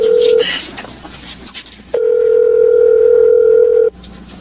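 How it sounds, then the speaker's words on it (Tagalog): A cellphone ringback tone sounds while a call is placed to a mother, a loud steady electronic beep that stops, then returns as a long unbroken tone of about two seconds. "Tatawagan ko si Inay. Sana sagutin niya ang cellphone."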